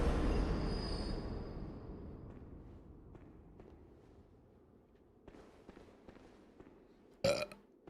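A low, rumbling burp swells at the start and fades out, followed by faint clicks and a sharp brief knock, with no talking, in a late-night gaming stream setting.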